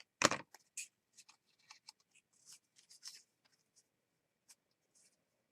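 Scissors snipping a piece of green paper for a mixed media craft project, opening with one sharp crisp cut and followed by a string of small quiet clicks and rustles spaced out, close and alone.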